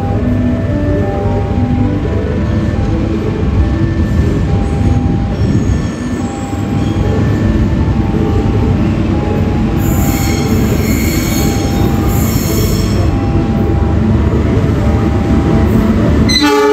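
The Ranggajati passenger train rolls into a station track, loud and close, with sustained metallic wheel squeal and rumbling carriages throughout, plus a brief higher screech partway through.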